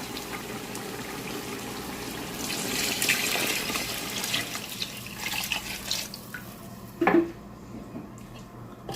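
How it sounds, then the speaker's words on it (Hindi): Water pours steadily into a cooking pot for rice, a continuous splashing stream that thins and fades out, followed by a brief clink near the end. "4 गिलास चावल है, 8 गिलास पानी डालेंगे।"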